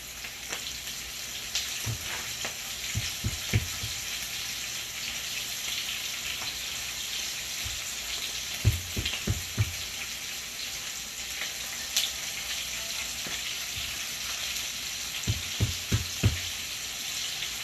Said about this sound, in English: Then I fry the flats together